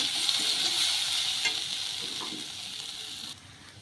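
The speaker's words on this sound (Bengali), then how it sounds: "এবার ভালো করে ভাজতে থাকবে।" Vegetables fried with turmeric sizzle steadily in a pan while a spatula stirs and scrapes through them, the hiss loud and continuous until it drops off near the end.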